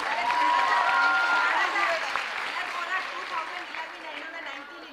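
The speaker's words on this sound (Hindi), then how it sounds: "सर तालियां जोरों से बजाइए जी" A studio audience at a Dev Anand film quiz show claps loudly, a dense burst of applause that gradually thins and fades, with a voice briefly audible over it.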